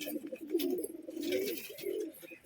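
Pigeon cooing in a loft, a soft, low, throaty coo repeated a few times in close succession, faint and near, with no talk over it.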